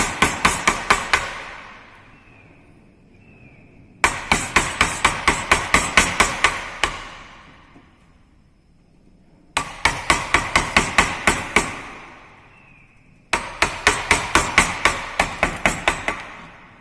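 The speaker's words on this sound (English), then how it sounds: "Again we can do the chiseling operation" Chisel hammered into a wooden workpiece during carpentry, four bursts of rapid, sharp, ringing blows, about eight to ten strikes each, loud and close with short pauses between.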